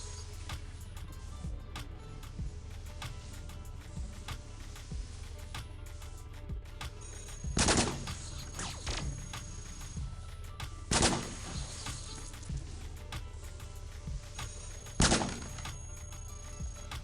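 Flak guns fire in the game Cogmind, three sharp heavy blasts spaced a few seconds apart over a constant low hum and scattered ticking effects.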